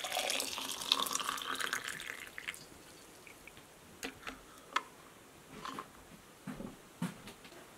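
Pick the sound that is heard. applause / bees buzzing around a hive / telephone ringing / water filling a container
water filling a container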